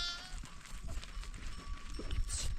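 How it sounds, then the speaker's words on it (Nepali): Sheep in a Himalayan winter shelter bleat a couple of times in a wavering call, with a faint voice and rustling animal movement in the background. "मलाई भेडा त धेरै छन्"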